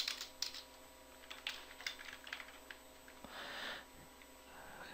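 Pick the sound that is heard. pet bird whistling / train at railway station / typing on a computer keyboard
typing on a computer keyboard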